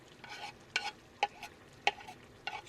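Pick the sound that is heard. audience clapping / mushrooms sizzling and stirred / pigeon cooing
mushrooms sizzling and stirred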